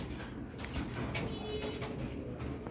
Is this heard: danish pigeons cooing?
yes